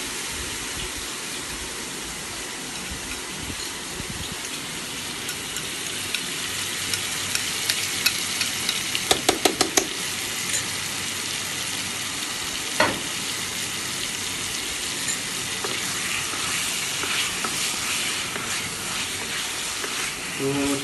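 Chicken pieces sizzle and fry in hot ghee for chicken khichdi, a steady crackling hiss throughout with occasional stirring clatters of a utensil against the pan.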